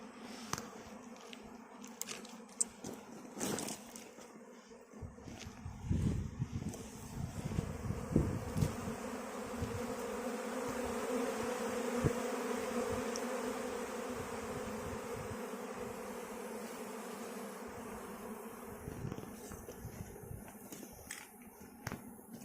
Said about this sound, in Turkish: Evet, oğul girişini seyrediyoruz.